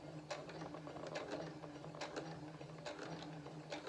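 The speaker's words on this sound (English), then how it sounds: "So we're going to do a quick back stitch on that." Sewing machine running a quick back stitch while sewing a pillow, a faint, steady mechanical whir with small rhythmic ticks and clicks, close by.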